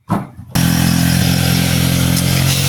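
A motorcycle engine labours loudly up a steep provincial road, with a sharp rise into a constant, close, strained drone after a brief rougher start.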